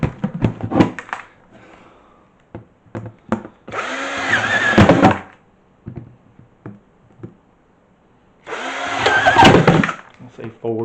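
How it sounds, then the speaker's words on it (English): A drill bores holes in a Lowes plastic bucket lid in two loud, whirring bursts of about a second or so each, with someone talking in between and before them. "to drill a couple of holes around the bucket lid."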